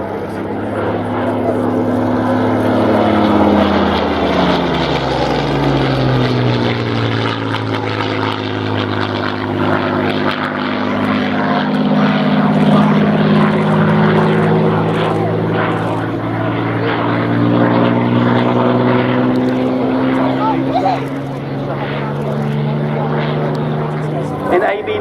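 Spitfire BM327 in 64 Squadron D-Day markings flying at the RAF Cosford Airshow, a loud piston engine drone rising and falling as it passes, continuous for the whole stretch with a commentator talking over it.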